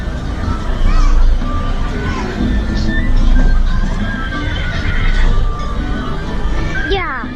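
A horse whinnies near the end of a lively outdoor stretch, its call rising over a steady wash of crowd noise, footsteps and people talking.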